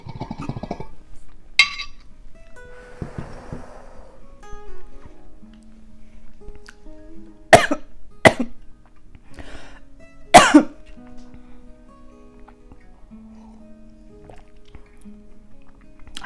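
Coughing after a bong hit, several sharp, close coughs scattered through a quiet room with a soft bubbling gurgle and faint clinks between them.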